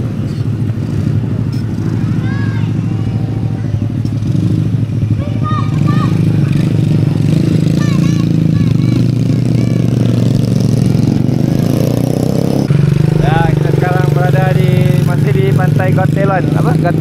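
A motorcycle engine starts and settles into a steady, close idle during a trip in Padang, Indonesia, with people talking over the low running hum throughout.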